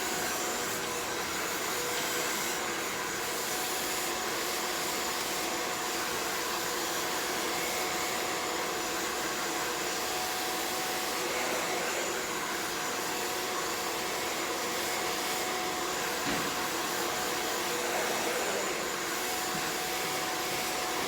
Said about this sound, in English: So I want to start blow drying the ends a little bit more first